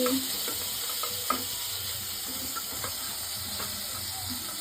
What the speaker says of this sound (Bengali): মাছটাকে ফ্রাই করছি আমি, এই দেখুন দিয়ে দিচ্ছি মাছটাকে আমি